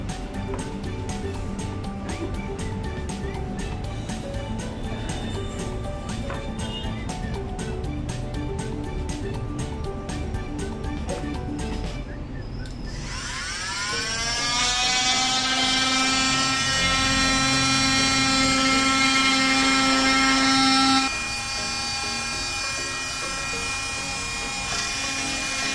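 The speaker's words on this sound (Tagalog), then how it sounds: "So, dito ko tatabasin yung gagawin kong handle." A power tool cuts a piece of wood to make a handle. A steady mechanical drone with rapid regular ticking gives way to a motor spinning up into a louder, sustained high whine, with no talking.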